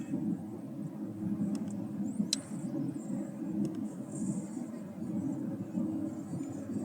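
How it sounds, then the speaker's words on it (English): Constant low engine rumble and road drone inside a moving car, steady throughout with a couple of faint clicks. "I'm in a loud car right now, so I may be a little bit hard to hear"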